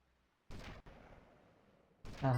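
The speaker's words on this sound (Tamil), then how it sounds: "கண்டிப்பாக ஏகேலலாம் சுட முடியாது, ஸ்னைப்பர் வேணும்." Sniper rifle shots from the video game GTA Vice City Stories, with two sharp loud cracks about a second and a half apart, each trailing into a decaying echo.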